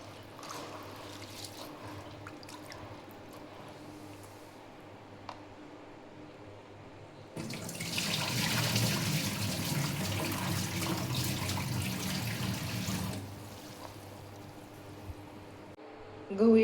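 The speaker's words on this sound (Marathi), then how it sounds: "गहू 2-3 पाण्याने व्यवस्थित धुवून घ्यायचे" Homegrown wheat grains are washed in water, with a quiet stretch followed by several seconds of loud running and sloshing water at close range before it tapers off.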